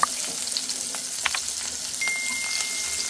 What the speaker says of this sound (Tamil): வெங்காயமும் சின்ன வெங்காயத்தை போட்டுக்கலாம்